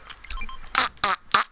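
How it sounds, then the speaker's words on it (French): A short burst of flatulent sputtering sounds, several quick rasping blasts in close succession after a softer murmur, near and loud with no talk over them. "T'as pété."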